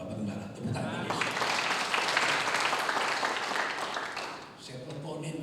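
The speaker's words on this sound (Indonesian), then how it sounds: "Tepuk tangan Yesus." Worshippers at a church service clap together for several seconds, a dense, fairly close burst of applause that swells and then tapers off.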